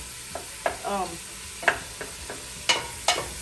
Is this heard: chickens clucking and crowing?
no